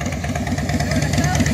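A motorcycle idling nearby at a biker rally in Laughlin, a steady low, lumpy throb with a regular loping pulse, close and fairly loud, with voices speaking over it.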